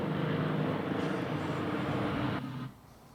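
A helicopter passes over a disc golf course at a professional tournament, giving a steady, broad rotor and engine roar that holds level and then drops away sharply near the end.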